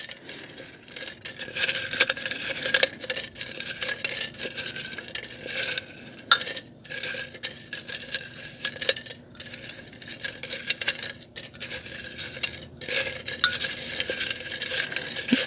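Paper squares being shaken and mixed in a container before one is picked, a continuous rustling and rattling with small clinks, close and steady throughout.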